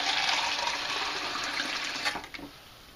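Tap water runs hard into a container of fermented heirloom tomato seeds, a loud continuous gushing rush that churns and swirls the seeds, easing and tapering off with a few splashes near the end.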